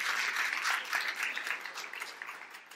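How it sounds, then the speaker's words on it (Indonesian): Congregation applause in an Indonesian church service, a lively wash of many hands clapping that gradually thins and fades, moderately quiet with no voices. "Tepuk tangan yang meriah untuk kamu"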